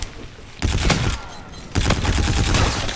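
Gunshots crack in a hardcore-mode shooter game, two sharp loud bursts of fire each followed by a ringing, rattling tail, with no voices.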